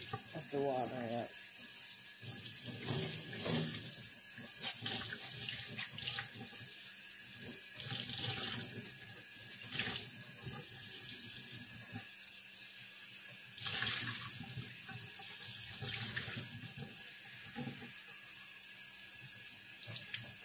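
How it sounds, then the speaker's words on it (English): Tap water runs steadily into a sink throughout, a continuous splashing stream with faint clatter and occasional voices in the background. "I like the sound of the water"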